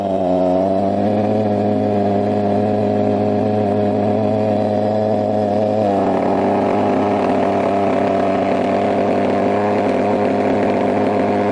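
A walkingfog pulse thermal fogger with twin carburettors, stainless steel valve plates and an adjustable throttle runs close and loud in a continuous droning buzz, its pitch shifting slightly partway through, with no voices.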